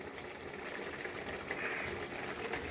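Jute leaf greens (pat shak) boil steadily in a covered pot, a dense, continuous bubbling hiss that stays close and even throughout, with no talking.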